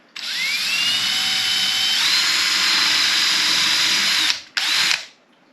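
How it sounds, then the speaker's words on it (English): Power drill with a wobbly bit boring into a wooden dresser, a loud continuous whine whose pitch steps up partway through, stopping briefly before a short final burst. "And this isn't the most stable drill bit."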